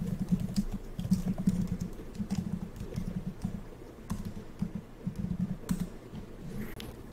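Typing on a computer keyboard to enter a terminal command on a Windows PC: quiet, fairly steady bursts of soft keystrokes with short pauses between them, close and fairly faint.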